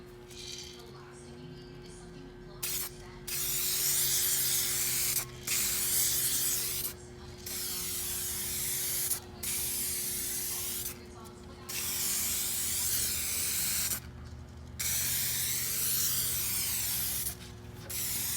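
Eastwood 2K gloss black two-part ceramic chassis coating sprayed from a spray gun in a run of about seven long, steady hissing bursts separated by brief pauses, close and fairly loud over a faint background hum.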